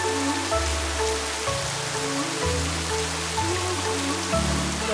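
Steady rain patters over an open boat out on a lake near Jauja, Peru, a dense even hiss with a low motor hum shifting in steps underneath, no talk.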